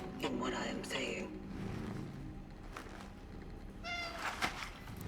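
Cats meowing in the video game Chronos: The New Dawn, a few short mewing calls near the start and again toward the end, mixed with soft ambient game sounds and a voice talking underneath.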